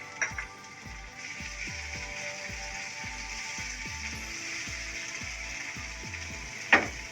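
Chopped garlic and green chillies fry gently in a pan with a soft, even sizzle and a regular, rhythmic low tapping beneath it. A sharper clink sounds near the end.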